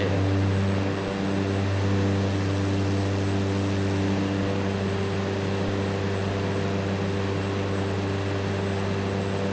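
Propeller aircraft engine in Microsoft Flight Simulator, a steady droning hum with strong tonal bands that eases slightly early on as the throttle is cut, then holds a constant, even tone.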